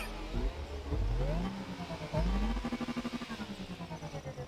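A Porsche Taycan Turbo S electric car in The Crew Motorfest racing game whirs with a synthetic rising and falling drive tone, sweeping up under acceleration and settling into a pulsing hum, fairly faint in the background.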